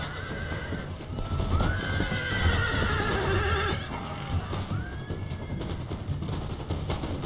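Cavalry horses clash in a battle in the video game Empire: Total War, with rapid hoofbeats under repeated loud neighs and whinnies, busy and close with battle din behind.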